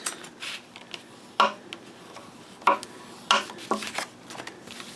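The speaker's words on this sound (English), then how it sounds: "So once again, we fold this." Paper flaps of a photo folio are folded by hand, giving a few separate papery creases and rubs spaced out over quiet moments, close and fairly soft.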